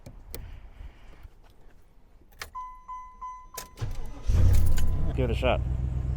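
The soft close trunk suck down motor on a 1995 Cadillac Fleetwood, a low mechanical whir swelling near the end after jangling keys and clicks, with a person speaking briefly beforehand.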